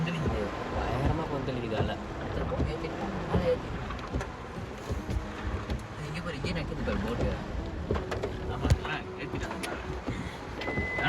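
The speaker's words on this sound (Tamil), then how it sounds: "செம்ம அலை அடிக்குது போக முடியாது" Strong sea waves crash against the shore during a cyclone, a dense, continuous roar mixed with wind, with people talking over it throughout.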